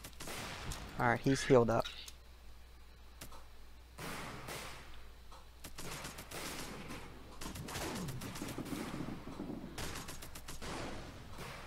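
Video game REDCON battle with units focusing fire, sporadic bursts of gunfire and artillery-like bangs crackling at a moderate distance, with someone talking over it briefly.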